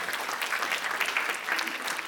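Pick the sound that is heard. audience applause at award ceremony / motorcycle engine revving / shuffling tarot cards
audience applause at award ceremony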